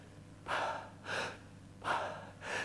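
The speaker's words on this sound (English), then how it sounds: "as I'm breathing in really, really deeply" Deep inhalations through the nose and mouth, demonstrating the neck's accessory breathing muscles: four slow, close breaths in a steady rhythm, each swelling and fading, alone in a quiet room.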